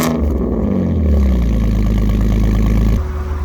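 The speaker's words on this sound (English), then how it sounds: "So as you can hear, the engine is now all done and running really good." A rebuilt Alfa Romeo 147 GTA engine runs close by, rising briefly in a rev with a fast rhythmic pulsing before settling back to a steady, loud idle.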